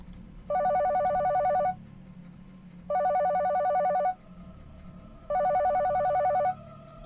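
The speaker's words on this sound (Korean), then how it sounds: "확 끊어버렸는데 다시 전화가 또 울리더라고요" A telephone ringing in a company warehouse in a horror radio story: three evenly spaced, loud electronic ring bursts, each about a second long with short pauses between, clear over a low hum.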